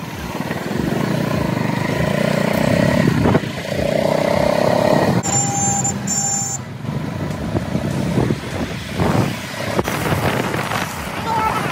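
A Royal Enfield Classic 350 Bullet motorcycle rides through traffic, its engine rumbling steadily under wind noise and someone talking, with brief beeps partway through.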